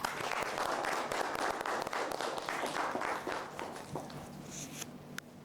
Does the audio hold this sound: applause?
yes